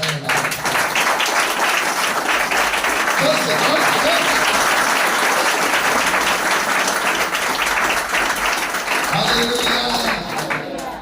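A church congregation claps steadily and loudly throughout a Hindi-language sermon, a dense, continuous wash of applause with a voice faintly audible underneath.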